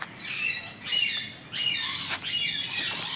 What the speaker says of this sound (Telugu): పావురాలు.